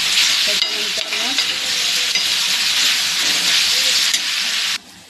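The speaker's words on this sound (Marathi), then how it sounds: "आणि आता हे व्यवस्थित मऊ होऊ द्यायचं, परतून घेऊया." Loud, close sizzling of food sautéing with homemade red chili masala, stirred with scraping strokes, briefly cutting off near the end.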